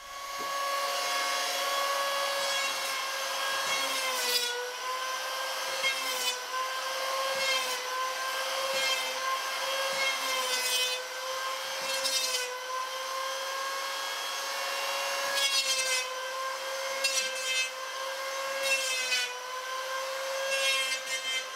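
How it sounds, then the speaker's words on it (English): A hand plane works along a 28-foot wooden boat mast in repeated scraping strokes about every two seconds, riding over a steady tonal hum. "I can start the planing process."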